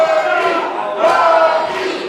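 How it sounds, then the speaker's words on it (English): A wrestling crowd at a live ACCW show roars steadily to rally the wrestler Buggy, with a dense, sustained wall of cheering and shouting that swells slightly near the middle. "Crowd now trying to motivate Buggy back in."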